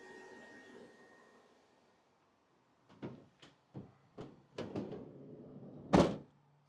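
Quiet hum, then a series of sharp knocks and clicks followed by one loud solid thud of a Fiat Talento 2.0 dCi van door shutting nearby.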